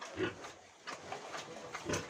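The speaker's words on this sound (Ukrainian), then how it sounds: "Це ця гемшириха, яка на вибраковку." A Hampshire gilt pig culled from breeding, giving several short, fairly close grunts spaced irregularly over soft barn background noise.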